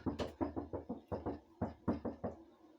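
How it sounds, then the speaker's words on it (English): Loud knocking comes in repeated quick bursts of two to four raps, sharp and close, with short pauses between the groups and no talk over it. "Keeps knocking."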